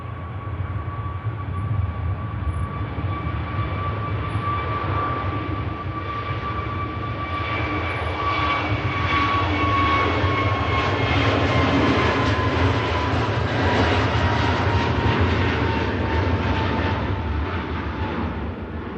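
An airliner departing Manchester Airport for Fuerteventura produces a sustained, fairly distant jet roar with a whining engine tone that slowly rises and swells toward the middle before holding steady, with no voices.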